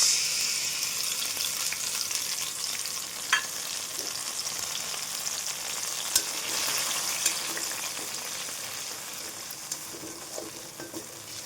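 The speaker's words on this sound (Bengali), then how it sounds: "এই যে লঙ্কা, আদা, ধনে, জিরে, এটা যেটা বেটে রেখেছিলাম, এই পেস্টটা আমি দিয়ে দিলাম" A ground paste of chili, ginger, coriander and cumin fries in a pan for a Bengali yogurt katla fish curry, giving a soft, continuous hiss broken by occasional sharp utensil clinks.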